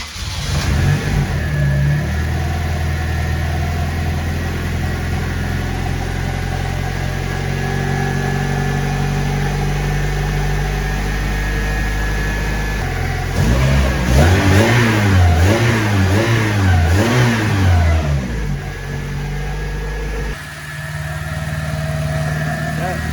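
A turbocharged Honda Civic, sitting unused for three years and freshly rebuilt, runs steadily at idle close by, then revs up in a few rising and falling bursts before settling back to a lower idle.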